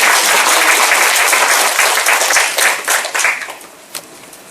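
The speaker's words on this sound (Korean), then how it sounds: "양대석 교수님께 박수 부탁드립니다" Audience applause for Professor Yang Dae-seok at the end of his lecture, a loud, dense burst of many hands that holds steady, then thins and fades out over the last second.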